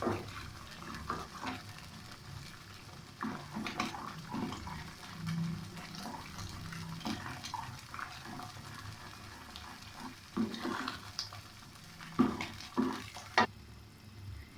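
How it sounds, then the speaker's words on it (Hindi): Suji halwa cooking in ghee as a spoon stirs it quickly, close bubbling sizzle with repeated scraping and clinking strokes that grow louder toward the end. "अब हम इसको काफ़ी तेज़ तेज़ चम्मच चलाना है"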